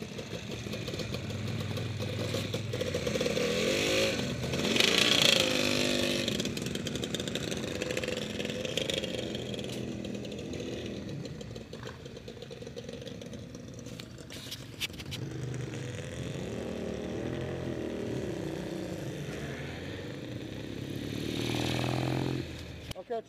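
Motorcycle engines from a cafe racer club ride near Madrid, New Mexico, rumble at idle and while riding, a steady mid-pitched drone with rising revs that sits under outdoor voices talking throughout.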